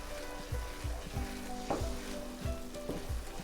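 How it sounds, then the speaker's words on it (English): Risotto rice sizzles in a pan while being stirred, a steady close frying hiss punctuated by soft scraping strokes about every half second. "By stirring it and letting that liquid evaporate, you're going to start pulling the starch out of your rice"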